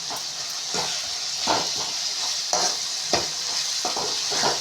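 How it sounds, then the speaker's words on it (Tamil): Tomatoes and onions sizzle in a hot pan for egg thokku, a steady frying hiss with repeated scraping stirs of a spatula at a close, even rhythm, with no talking. "தக்காளியும் வெங்காயமும் நல்லா வதங்கணும்."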